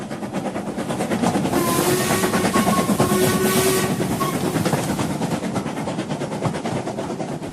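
A steam train travels with rhythmic clickety-clack rumble and whistle-like tones in the middle, loud and continuous, an audio drama sound effect with no voices.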